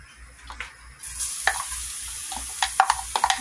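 Olive oil sizzles in a pan, a steady hiss that swells after the first second, with sharp scraping clinks of stirring on top, close and loud, no talking.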